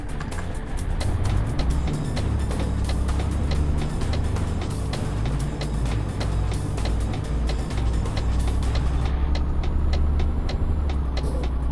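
A heavy truck engine drones and rumbles steadily in Euro Truck Simulator 2 while the truck drives through Berlin, with a loud, continuous low motor hum and faint ticking road noise.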